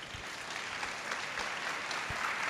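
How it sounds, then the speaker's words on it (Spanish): Loud, continuous applause fills a live Fuckup Nights storytelling event in Bucaramanga as the audience claps for speaker Pedro Parra. A dense, steady wash of many hands continues throughout without fading. "Damos un fuerte aplauso para él"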